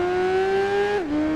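In the Tourist Trophy video game, a BMW motorcycle engine holds a steady high whine as the rider feathers the throttle through a spiral. Near the end the pitch drops sharply as the revs fall, loud and close, with no voices.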